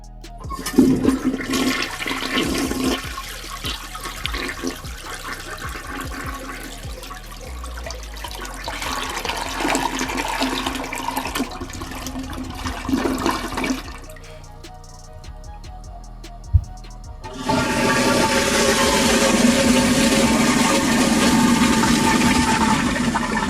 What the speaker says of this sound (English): that, my friends, deserves a toilet flush